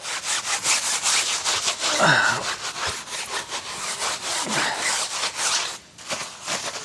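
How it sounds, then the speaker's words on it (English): A brush scrubs the tires of a 1972 Porsche 911 coated in iron remover, a loud, close, rhythmic back-and-forth rubbing that runs almost without pause, briefly dipping near the end. "I'm scrubbing the tires too."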